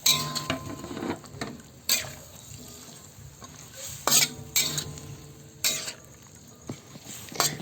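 Pork with potatoes, carrots and bay leaves stirred in a pot, repeated loud metallic scrapes and clanks of a spoon against the pan over a low sizzle, close and rhythmic, with no speech.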